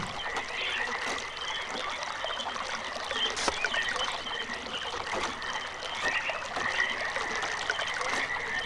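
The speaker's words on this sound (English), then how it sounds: "So now if we direct the water this way..." Water flowing to drive an elevator mechanism in the video game RealMyst, a continuous trickling, burbling stream with small splashes, moderately close and steady, with no speech.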